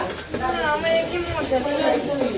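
Vegetables fry in a pan and are stirred, giving a close, steady sizzle with scraping strokes, while voices talk over the cooking.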